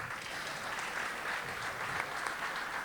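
Listeners at an ethics conference on the gender identity law applaud steadily, an even wash of many hands that sounds somewhat distant and soft and carries on for a few seconds without talk.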